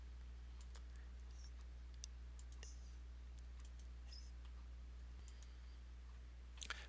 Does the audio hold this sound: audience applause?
no